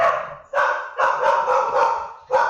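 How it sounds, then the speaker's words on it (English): A dog barks in four loud bursts, close by, with brief pauses between the barks. "you hear my dog barking in the background"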